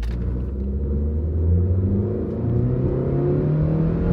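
A used Mazda car accelerates from a standstill uphill with a deep, steady engine rumble that climbs in pitch as revs build, heard from inside the car with no talking.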